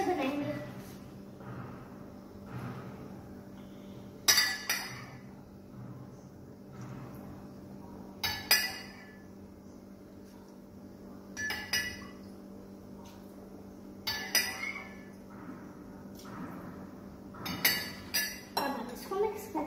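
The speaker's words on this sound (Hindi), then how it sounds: "धीरे धीरे दूध डाल के हम थिक बैटर बनाएंगे।" Parle-G biscuit batter is stirred with milk in a glass bowl, producing short bursts of bright clinking every few seconds. Soft voices can be heard faintly in the background.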